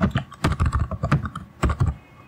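Quick burst of typing on a computer keyboard, around a dozen close, crisp key clacks in uneven rhythm, entering the sudo command, with no voices.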